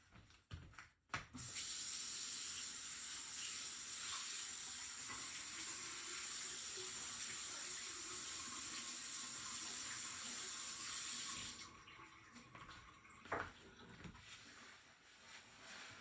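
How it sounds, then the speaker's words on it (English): A sink tap runs steadily while an evaporating dish is rinsed in a lab, a continuous hissing water stream that stops abruptly near the end, leaving quiet room tone with a brief clink. "So you can go ahead and dump it in the sink with water."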